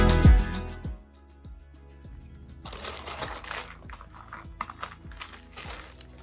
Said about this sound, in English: Unwrapping something feels so good.